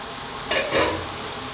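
Wilted spinach being stirred into chicken curry in a pot, a soft scraping swish with faint sizzle under a steady hiss, a brief louder stir midway.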